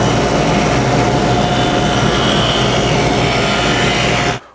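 A table saw cuts a groove along a wooden rail, a loud steady whine of the blade running continuously before stopping abruptly at the end.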